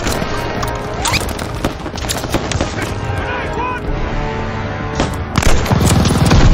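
A Call of Duty Vanguard machine gun lays down continuous suppressing fire in a WWII battle against a half-track, a loud dense rattle of shots with explosions mixed in and shouting voices over the din.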